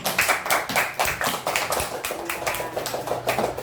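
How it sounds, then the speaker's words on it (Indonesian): Schoolchildren in a classroom clap for a group after its presentation, a loud close burst of many hands in quick, uneven rhythm that continues steadily without talk. "Tepuk tangan untuk kelompok 3"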